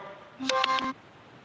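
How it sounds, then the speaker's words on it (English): A telephone rings with an incoming call, a brief electronic ringtone of a few clear tonal pulses lasting about half a second over quiet background hiss. "That was Kim calling"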